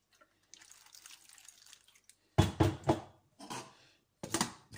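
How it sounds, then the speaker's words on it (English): Water is poured into a pot holding packet rice, first a faint trickle, then louder splashing bursts in separate pours with brief pauses. "Put some water because it's already in the packet."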